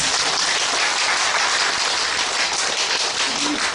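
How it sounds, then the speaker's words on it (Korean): Seminar audience applauding in a lecture hall, a steady, even wash of many hands clapping that fills the whole moment with no talking over it. "제가 지금 기운이 없을 때 여러분 수행님께서는 박수를 쳐주시면 돼요."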